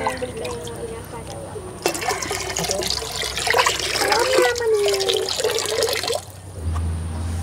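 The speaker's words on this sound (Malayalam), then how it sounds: "ഈ വെള്ളവും കൂടി ഇതിനകത്തേക്ക് ഒഴിച്ചു കൊടുക്കുന്നുണ്ട്" Salt water being poured into a home fish tank, a continuous splashing and trickling that swells in the middle and then stops, heard under someone talking.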